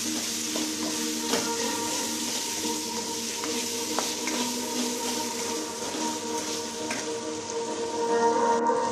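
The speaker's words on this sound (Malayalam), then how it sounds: "രണ്ടും നല്ലതുപോലെ ഇളക്കി കൊടുക്കാം" Ingredients stirred with salt in a cooking pot for a biryani, a steady wet scraping and sizzling texture with small clicks of the spoon against the pot, close and continuous with no talking.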